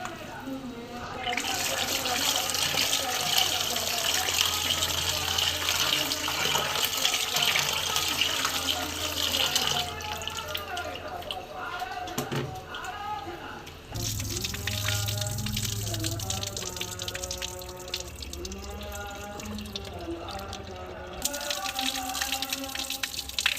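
Tap water runs steadily into a sink while a kilo of raw chicken is washed, with splashing and shifting pieces under the stream. The flow pauses briefly and then resumes, and a voice talks now and then.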